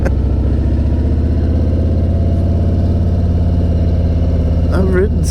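An SGS motorcycle engine runs at a steady, loud, throbbing idle close by, its even low pulsing continuing throughout, with a brief voice near the end.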